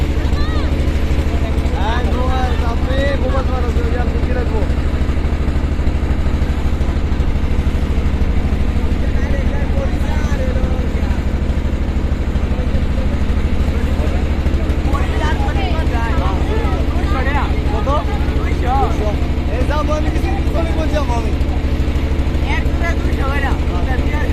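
Steady, loud engine drone of a speedboat on a river in Bangladesh, running continuously close by with a low rumble under scattered voices talking throughout.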